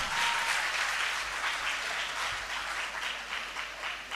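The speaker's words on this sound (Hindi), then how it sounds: "बहुत जोरदार तालियां" Steady, dense applause from an audience at a live Independence Day (14 August) speech and national song show, sustained and fairly loud throughout with no talking.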